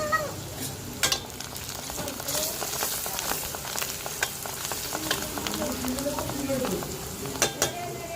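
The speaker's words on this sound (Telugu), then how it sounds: "ఉల్లిపాయ పచ్చిమిర్చి అయితే బాగా ఏగుతూ ఉంది కదండి" Onion and green chillies fry in a pan with a steady loud sizzle, with scattered clicks and scrapes of stirring over it.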